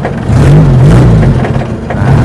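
A 1975 Toyota Corolla KE30 with its 3K engine revving hard close by, a loud, rough, throaty drone that swells and dips through the few seconds with no voices over it.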